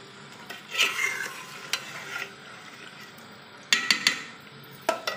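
Chicken curry being stir-fried in a handi pot, with bursts of spatula scraping and clattering against the pot over a faint background sizzle, irregular and close.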